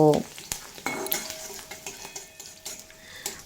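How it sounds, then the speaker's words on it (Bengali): Crushed garlic cloves frying in oil with dried red chillies for a Bengali greens dish, stirred with a utensil: soft sizzle with scattered clinks and scrapes against the pan, a sharper rattle at the start, close and fairly quiet. "দিয়ে দেব পাঁচ ছ কোয়া মতো থেতো করা রসুন দিয়ে খুব ভালোভাবে ভেজে নেব"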